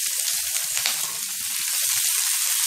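Sliced onions fry in hot oil in a pan, giving a loud, steady, hissing sizzle that carries on without a break. It is close up, with faint low bumps underneath and no speech.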